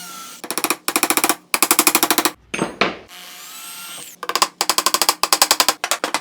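Wooden pieces for a rustic retro bedside table being hammered together in a vise, loud rapid bursts of sharp repeated blows broken by short pauses and a brief scraping sound.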